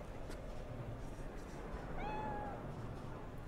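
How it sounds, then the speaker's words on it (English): A cat in the Cyberpunk 2077 video game gives one clear meow over a steady background of game ambience and low hum, with no speech over it. "I need to pet the kitty again."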